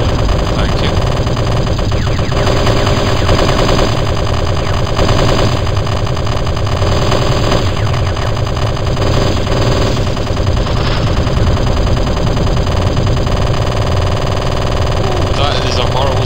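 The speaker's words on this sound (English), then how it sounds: "it's probably because all the cannons are firing at one time" Dense, continuous rapid booming and crackling blasts of many video-game cannons firing at once over a droning engine hum, loud and relentless throughout, with faint voices mixed in.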